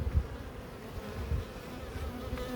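Honey bees buzzing around an open beehive with pollen-filled frames, a steady low drone close by with a few louder passes, no talk.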